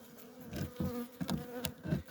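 Honey bees in a wintering family hive buzz softly and close by, the drone swelling and fading in short bursts with no talk.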